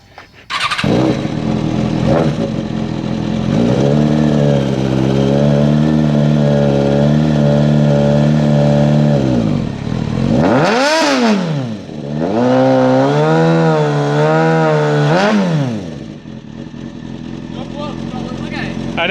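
A sportbike engine revs hard while the bike pulls on a Miata frame, a loud, close, sustained roar that eases off briefly midway, surges again with rising and falling pitch, then fades, with voices around it.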